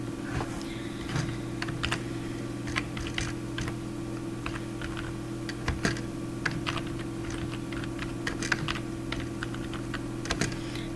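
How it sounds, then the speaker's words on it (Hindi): Someone types on a computer keyboard while entering a spreadsheet in Excel, producing irregular close clicks and taps over a steady low electrical hum. "फिलहाल इसी के अंदर टाइप कर लेते हैं।"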